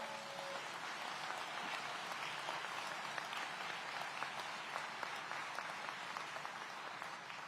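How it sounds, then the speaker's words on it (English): Audience applause at a city public safety event in Aurora, a dense, even wash of many hands clapping, distant and fairly quiet, sustained without pauses. "Give them another round of applause."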